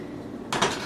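A spoon scraping sauce onto plated Italian roasted tomato pasta, one short soft clink and scrape of metal against a plate, close and brief, over a quiet kitchen background.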